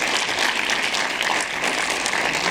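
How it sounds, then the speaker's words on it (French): Audience at a film festival screening, the PIFFF 2019 Phil Tippett documentary presentation, claps steadily throughout, a dense continuous applause filling the room with no voices on top. "je pense que vous pouvez les applaudir"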